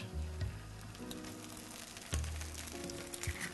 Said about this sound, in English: So you want to crack the egg gently on the inside.